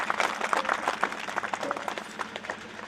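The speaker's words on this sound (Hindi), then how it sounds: "उनके लिए जोरदार ताली है." Audience at a community organization's gathering giving a round of applause, uneven bursts of clapping from a moderate-sized crowd that stay lively before easing slightly.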